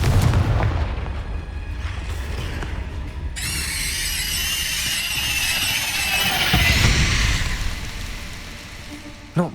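Booming blasts of the Confringo explosion spell in the Hogwarts Legacy video game, with crackling, sizzling bursts and a rising squeal amid game sounds, plus brief voices.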